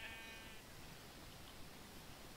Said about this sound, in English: I found sheep. I actually found sheep.